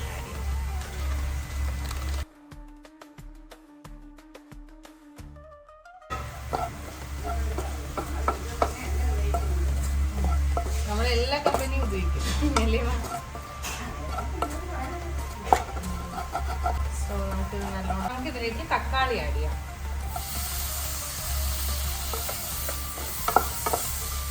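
Onion and chicken masala sauté in a pan with a steady sizzle and repeated scraping, clattering stirs, after a short burst of music near the start.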